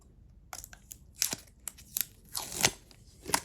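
Tape peeling and crackling off the plastic housing of a Mercedes C-Class W204 electronic steering lock motor, a series of short, close ripping and crinkling bursts with brief pauses between them.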